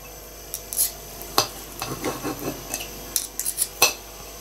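A knife taps and scrapes against a cutting board in irregular strokes while cutting food, with soft rustling of food between the sharper clicks.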